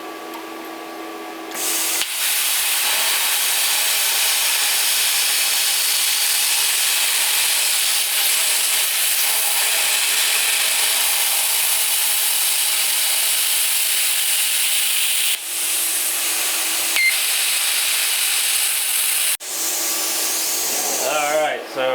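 A cheap Temu plasma cutter fitted with a drag tool cuts metal, giving a loud, steady hissing roar that runs for nearly twenty seconds with a couple of brief dips.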